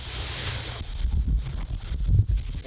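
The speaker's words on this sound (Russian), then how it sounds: "Ох, ветрище какое, а!" Strong wind at a reservoir in the Kursk region on a fishing trip roars in a loud hiss, then turns into heavy low gusts buffeting the microphone in uneven surges.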